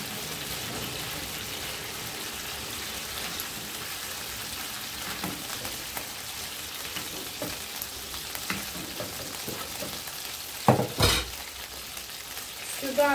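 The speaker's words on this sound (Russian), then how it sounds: "Итак, мясо наше начинает обжариваться." Chicken thigh fillet sizzles steadily in hot oil in a pan, a continuous rain-like frying hiss with occasional clinks and a louder clatter toward the end.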